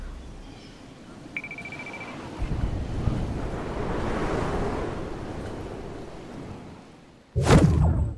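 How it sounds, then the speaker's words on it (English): A storm rumbles in Fortnite as a broad, wind-like roar that swells gradually and then bursts into a sharp, loud crackle near the end. "The storm's coming."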